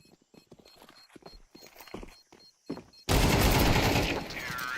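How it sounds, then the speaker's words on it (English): Desert Eagle pistol shots during a professional Counter-Strike match: a few sharp shots spaced out amid game clatter and commentary, then a sudden loud, dense wash of noise that fills the rest. "Couple of Deagle shots coming in."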